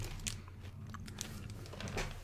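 Biting and chewing a Nestle Crunch bar up close, with faint crisp crunches scattered over a low steady background hiss.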